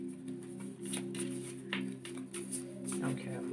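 Tarot cards being shuffled in short, soft bursts of papery slides and taps, heard close, under a steady hum and light talk.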